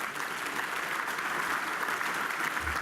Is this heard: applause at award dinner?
yes